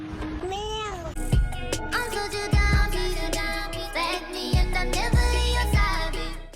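A cat meows loudly a few times, close by, over steady background music.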